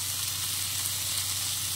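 Star fruit slices frying with salt and turmeric in a pan give a steady, even sizzle with no breaks, close and moderately loud, with no talking.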